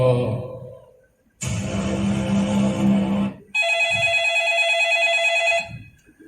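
A telephone rings in loud, sustained bursts, first a harsh buzzing ring and then a brighter electronic tone, with a voice speaking briefly before the ringing begins.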